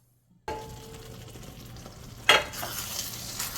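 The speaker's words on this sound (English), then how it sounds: "So I will come and stir." Spices for chicken vindaloo sizzle in a pan on the stove, a steady close frying hiss with a sharp stirring scrape just past the middle.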